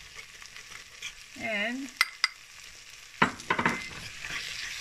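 Onions frying in a pot for French onion soup are stirred, a soft sizzle under scraping strokes with a few sharp utensil knocks and clatter, close up, with a brief spoken word.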